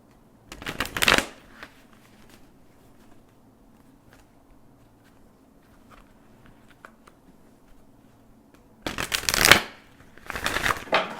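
Tarot cards shuffled in two loud bursts, one near the start and a longer double burst near the end, with a quiet stretch of faint rustles and low room hum between them and no voices.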